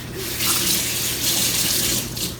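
Running tap water gushes steadily into a sink as a spoon is washed, a close, continuous splashing stream with slight swells in loudness.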